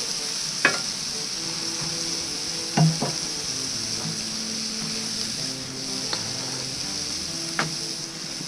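Smashburgers sear on a Blackstone griddle with a steady, close hissing sizzle throughout, broken by a few sharp scraping clinks of a spatula.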